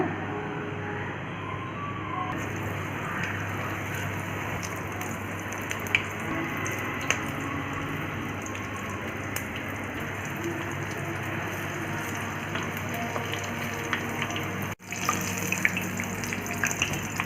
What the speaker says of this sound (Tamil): இது வந்து நல்லா ஃப்ரை ஆகிட்டு இருக்குது